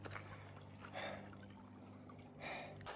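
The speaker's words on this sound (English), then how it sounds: "So this is a water source that's just running right across the road." A shallow stream of water runs across a road on the Florida National Scenic Trail, a soft continuous trickle with two brief brighter bursts of splashing, close by and with no one talking.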